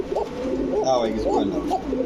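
Pigeons at a busy pigeon market coo steadily in repeated soft, rolling bubbling calls, close and continuous beneath murmuring voices of traders.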